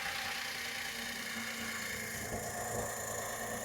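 A Tata Xpres T sedan's Revotron petrol engine idles steadily up close, a continuous even hum with a faint vibration and no speech.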